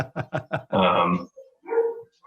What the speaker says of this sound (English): our dog's gonna bark here